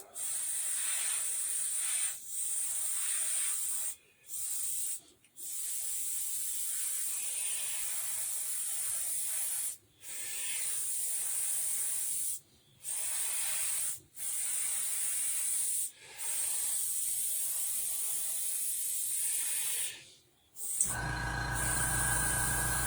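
A cheap handheld airbrush sprays with a steady, close hiss that cuts in and out in bursts as the trigger is worked, with brief silent gaps; it stops abruptly near the end.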